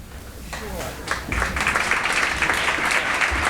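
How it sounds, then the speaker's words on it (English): Audience applause breaks out at a US congressional district candidate forum in Colorado, building from scattered claps to a full, sustained round that fills the room, with a voice briefly audible at the start. "A round of applause to all of you for standing up for democracy"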